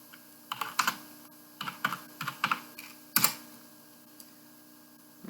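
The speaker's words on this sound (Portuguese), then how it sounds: "Eu vou digitar o dir para ver os arquivos que há dentro desse diretório." DOS command tapped out on a computer keyboard: close, crisp keystrokes in short irregular bursts, a firmer key strike near the middle, then a pause before one last tap.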